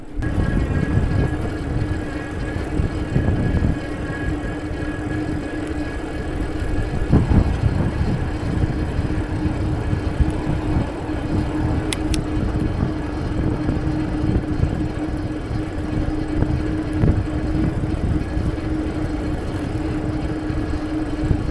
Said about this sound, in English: I'm going to stop talking for a second and let you listen to the motor.